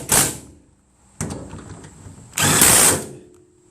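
Impact wrench bursts on a Ford E350 Super Duty cargo van, two loud whirring rattling runs separated by a quieter mechanical stretch, close and with no talking.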